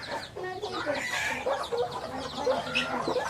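Chickens being let loose on a farm with white geese, repeated near clucks and squawks in an excited flurry, fairly loud and continuous.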